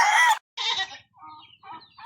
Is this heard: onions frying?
no